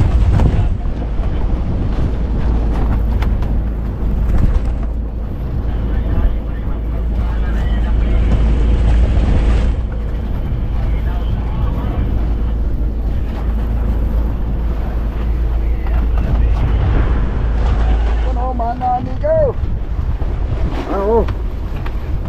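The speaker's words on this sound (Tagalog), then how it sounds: "Malalaki na naman ang alon." Strong wind buffets the microphone as waves slosh and crash around a boat, with voices talking intermittently over the constant roar.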